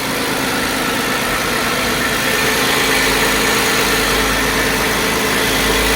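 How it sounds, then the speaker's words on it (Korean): A Hyundai Grandeur HG LPG engine idles smoothly and steadily at close range, a constant low hum with no other sounds. "LPG 엔진답게 스무스합니다."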